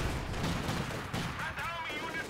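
Gunfire and explosions from a Company of Heroes 2 battle, a dense, continuous rattle of rifles and heavier blasts filling the mix at high volume.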